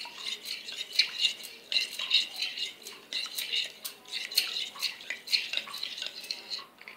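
Spoon scraping and clinking steadily in a bowl as cauliflower Manchurian batter with soy sauce is mixed, a close, continuous rhythmic rattle with no talk.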